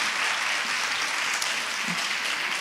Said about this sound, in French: On peut vraiment applaudir Bianca qui a ouvert cette édition.